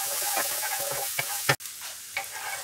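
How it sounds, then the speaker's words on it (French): Chopped shallots and garlic cloves fry in melted butter, giving a close, steady sizzle. A spoon stirring through the pan adds soft scrapes and one sharp knock. "Et là on va mettre échalote et gousses d'ail. Et on fait revenir le tout."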